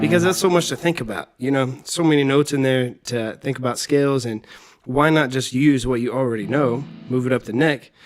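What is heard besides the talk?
No everyday noise stands out behind the speech.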